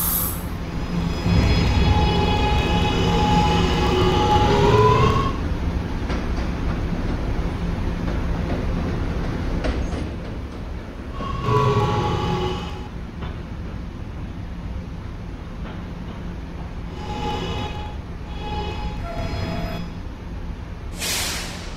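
An R211A subway train runs on the R line in a Roblox simulation, a steady rumble throughout with tonal whines rising at departure and arrival, brief squeals and a sharp burst at the end, no talk.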